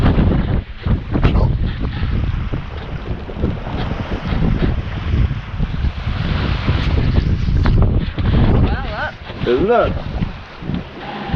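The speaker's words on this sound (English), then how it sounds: "It's so good to be sailing!" A sailboat heeling through wind and big swell off the northeast coast of Scotland, with a loud buffeting wind roar and rushing water surging under the hull as people talk and cheer over it.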